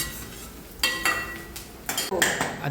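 Food being fried and pressed down in a pan for a Kolhapuri misal, with a constant close sizzle broken by clinks and scrapes of a utensil against the metal pan.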